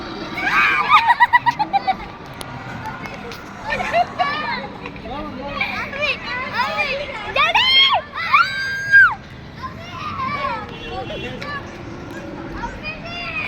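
A woman screams in fright on a fairground ride, loud rising shrieks among other excited voices and children shouting, with a busy crowd murmur underneath.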